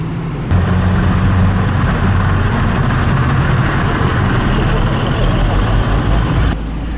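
Heavy buses and traffic roar past a motorcycle on a mountain road in India, a dense, loud continuous rumble of engines and wind close by, with talk faintly mixed in.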